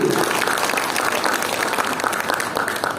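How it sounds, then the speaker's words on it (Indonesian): An audience in a hall at a talk show welcomes Pak Yudi with a sustained wave of dense, loud clapping that keeps an even level throughout, and no voice rises above it. "Tepuk tangan untuk Pak Yudi."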